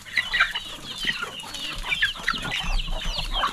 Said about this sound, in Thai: ห้าโมงเย็นแล้วดูดิไก่ หิวข้าวแล้วเนี่ย